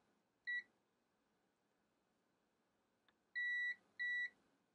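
A multimeter set to continuity mode beeps as its test lead probes trace a circuit board: one short clear tone, then two longer steady beeps close together, loud against a quiet background.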